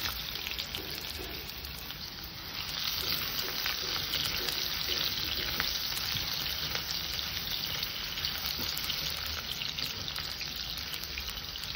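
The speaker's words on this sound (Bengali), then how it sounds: "আলু কটাকে আমি একটু ভেজে নেব।" Potatoes frying in oil with black cumin seeds, giving a steady, soft, close sizzle and crackle that grows slightly louder after a few seconds, with no talking.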